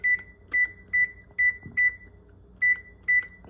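An oven timer being set to twenty minutes gives seven short, bright electronic beeps at an uneven key-press rhythm, close and clear in a quiet kitchen, with a soft thud between presses.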